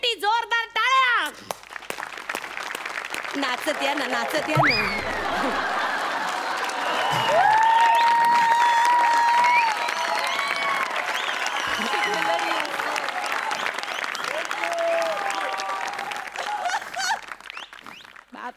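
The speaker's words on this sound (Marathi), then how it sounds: "जोरदार टाळ्या" Studio audience applause greets comedian Sumit Shetty stepping on stage at a Marathi comedy show, a steady roar of clapping mixed with laughter and music, with a voice speaking over it.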